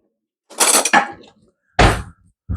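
Cucumber and tomato salad being tossed in a bowl, giving two separate bursts of clattering, scraping utensil-on-bowl noise with a short pause between, close and fairly loud, with no voices.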